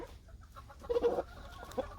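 Hens of native Korean breeds, including silkie-type ogolgye and cheonggye, clucking softly while pecking at a native Joseon pumpkin, with a short burst of louder clucks in the middle and a single cluck near the end.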